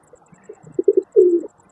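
A golden pigeon on a rooftop where grain is scattered gives close, clear soft cooing: several short throaty pulses followed by one longer drawn-out coo, with a faint high chirp repeating in the background.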